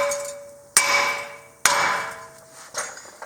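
A hammer strikes the front brake rotor of a 2017 or later Nissan Rogue Sport to knock it loose, three loud, sharp metallic blows close by, each ringing out and fading before the next.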